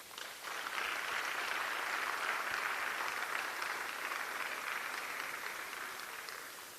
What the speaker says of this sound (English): may I request that we give all the change makers another round of applause